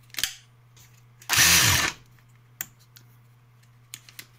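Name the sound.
Makita DHR263 cordless rotary hammer drill running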